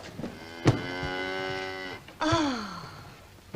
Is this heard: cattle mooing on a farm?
yes